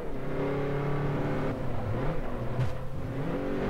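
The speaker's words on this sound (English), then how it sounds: "nice to hear the sounds of cars, the tire squeaks, the track, everything" In the racing game Forza Motorsport 4, race car engines rev and accelerate on track, a steady mechanical roar climbing and dropping in pitch through gear changes, alone without voices.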